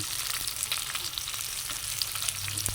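Kangkong (water spinach) dropped into a pan of frying chicken adobo, a dense close sizzle and crackle with light stirring scrapes running continuously.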